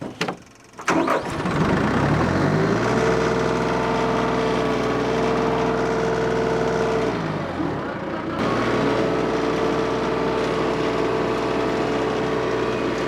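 A TYM 2515 25 hp compact tractor runs an MP348 forestry mulcher. After a brief sputter the engine revs up into a loud, steady drone that sags and lugs near the eight-second mark before recovering to a strong, constant hum.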